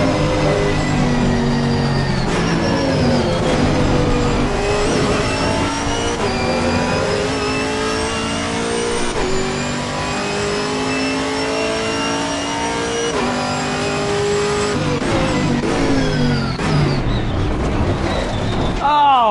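Chevrolet Camaro race car engine in Assetto Corsa Competizione, loud and continuous, revving up and down through gear changes with repeated rises in pitch, with a voice talking over it.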